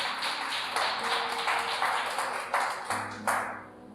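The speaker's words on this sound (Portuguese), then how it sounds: "Palmas que glorifiquem ao Jesus." A church congregation at a mission service claps in a steady, rhythmic beat, the sharp hand claps fairly faint and roomy and repeating evenly.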